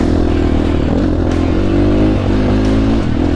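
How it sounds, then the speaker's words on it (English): A Motopro 300RR motorcycle engine runs steadily on its first ride, with a loud, continuous drone and small rises in revs plus some mechanical clatter. "First ride on the Motopro 300RR"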